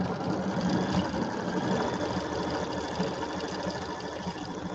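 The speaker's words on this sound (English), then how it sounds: "So now we're going to sew out the tree." An embroidery machine stitches out a tree design on a quilt block, giving a steady, continuous mechanical whir with a fast rhythmic needle chatter that runs unbroken and fairly close throughout.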